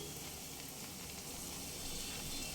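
Kashmiri red chili powder, roasted cumin powder, ginger powder and chaat masala sizzle over a low flame in a pan for mutton leg nehari, giving a steady, faint, even hiss with no talking.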